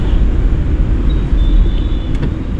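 A car in third gear during a driving lesson, its engine a steady low rumble close by and fairly loud, with no talk over it.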